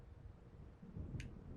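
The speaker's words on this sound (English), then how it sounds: "It seems there's a storm coming." Thunderstorm in the video game Alan Wake: a faint, low rolling rumble of thunder building beneath steady rain hiss, with a brief bright rustle near the end.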